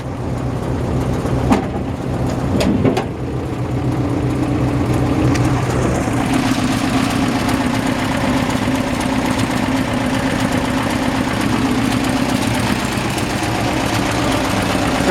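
A 1955 Ford F-100 pickup truck engine idles steadily with a low, rumbling drone, with an exhaust leak, preceded by a few brief knocks and clunks.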